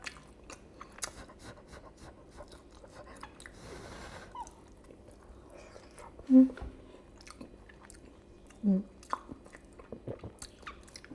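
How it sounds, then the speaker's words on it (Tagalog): Close, quiet chewing of crunchy air fried pork belly, with wet bites, crunches and small mouth noises, plus a couple of short vocal sounds. "Masarap talaga kumain something crunchy, no?"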